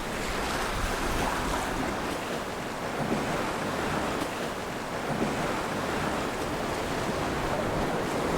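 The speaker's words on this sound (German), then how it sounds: "Die Wellen sind relativ hoch." High ocean waves and strong wind on a sailboat passage to Gran Canaria, a loud continuous wash of surf and wind buffeting the microphone, with swells surging rhythmically and no voices.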